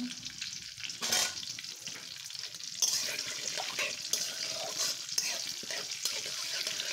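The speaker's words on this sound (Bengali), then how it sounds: "জিরাটা সুন্দর একটা ফ্লেভার বের হয়ে আসা পর্যন্ত আমি ভাজতে থাকবো এটাকে। আমি মরিচ দিয়ে দিচ্ছি" Cumin seeds and chillies frying in a pan, a quiet steady sizzle with stirring scrapes and faint splashy bursts, heard up close without any talking.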